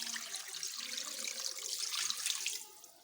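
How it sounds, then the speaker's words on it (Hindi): Tap water runs steadily into a bowl of vinegar and salt for a chicken marinade in a home kitchen, a close, continuous splashing pour that tapers off near the end, with no talking. "साथ ही इसमें हम पानी ऐड कर देंगे।"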